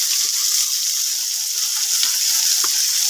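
Ground garlic and onion paste with spices frying in a pan: loud, dense, even sizzling throughout, with a few faint taps of stirring, close up and with no talk.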